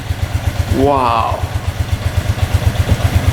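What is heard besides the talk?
cheap used ATV engine idling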